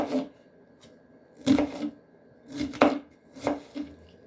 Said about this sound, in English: Chopping an onion efficiently.